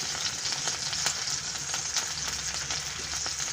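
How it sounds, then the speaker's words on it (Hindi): Chapli kababs fry in a pan with a constant bright sizzle and scattered small pops, close and moderately loud, with no one talking. "हमारे कबाब देखें कितने अच्छे से फ्राई हो रहे हैं"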